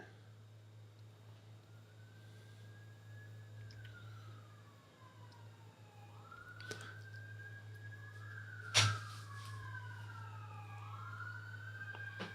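Police sirens wail far off outdoors, a faint rising and falling tone drifting across a steady low hum, with one sharp knock partway through.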